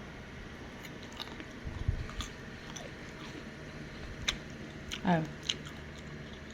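Someone bites and chews sour green mango with salty shrimp paste, with two distinct crunchy bites up close amid quiet background and a brief exclamation.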